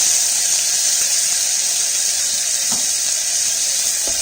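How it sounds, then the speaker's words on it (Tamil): Onions sautéing in a pan for a white kurma, giving a loud, steady, close hiss of frying that continues unbroken throughout, with a couple of faint clicks. "இந்த வெங்காயம் நல்லா கோல்டன் ப்ரௌன் ஆகணும், அது வரைக்கும் நல்லா வணக்கிக்கலாம்"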